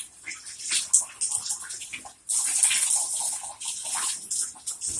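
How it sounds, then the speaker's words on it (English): Water running from a shower head in a home bathroom, a steady broad hiss of spray that pauses briefly midway and then resumes strongly, heard close and alone. "Don't turn on the shower head."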